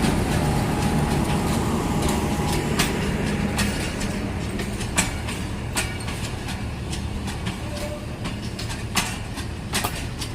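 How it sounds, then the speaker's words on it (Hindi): The Awam Express passenger train rolls past on the railway, a steady loud rumble with repeated sharp rhythmic clacks of wheels over rail joints, close by and continuous. "अवाम एक्सप्रेस है जी। अवाम है ना, अवाम एक्सप्रेस।"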